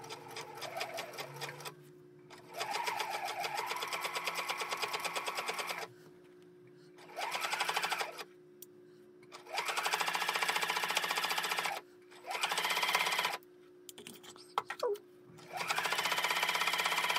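Sewing machine stitching around the edge of a newsboy cap with interfacing, running in several bursts of steady rapid whirring separated by short pauses, close and loud with no talk.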